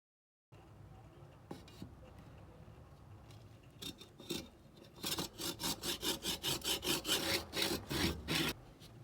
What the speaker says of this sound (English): After a bit of sawing,